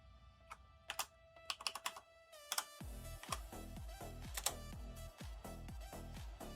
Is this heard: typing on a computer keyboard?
yes